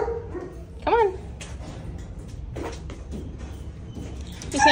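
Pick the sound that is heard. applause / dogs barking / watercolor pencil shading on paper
dogs barking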